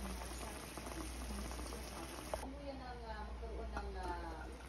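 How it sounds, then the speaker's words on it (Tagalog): Chicken wings for adobo simmer gently in plenty of broth, giving a quiet, constant bubbling with small pops, while a voice talks over the second half. "Tuloy-tuloy lang yung pagluluto natin ng adobo guys. Mahina lang. Yeah, maraming sabaw."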